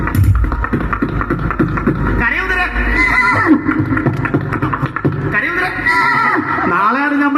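A horse neighs in loud, repeated whinnying bursts that rise and fall over a busy, dense background, with voices mixed in.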